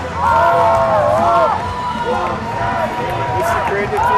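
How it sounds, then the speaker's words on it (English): A crowd of fans chants in song at an Arapahoe Bantam AA ice hockey game, a loud sustained rising-and-falling melodic chorus filling the rink, with an announcer talking over it. "the chants are getting into it now"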